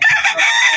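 A rooster crows at a pet market in Bocaue, one loud, close, brief burst of strained crowing with no talk over it.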